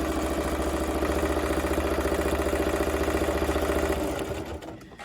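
A sewing machine stitches quilt binding at a fast pace toward a corner, giving a loud, close, rapid, even mechanical chatter that winds down and stops near the end.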